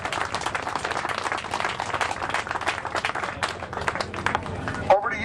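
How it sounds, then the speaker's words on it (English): A crowd gives a round of applause at a vintage motorcycle show hosted by the Chicago Norton Owners Club, dense clapping running throughout at moderate level, with a brief bump near the end. "I want everyone here to give a round of applause to MCC for hosting this event."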